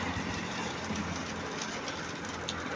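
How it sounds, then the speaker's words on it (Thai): Steady broadband hiss of rain pouring down, continuous and fairly loud, with no voices. "ฝนตกนะครับวันนี้"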